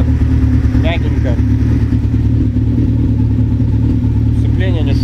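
2003 Kawasaki Z1000 motorcycle engine idling close by with a steady, low, even rumble throughout, while someone talks over it.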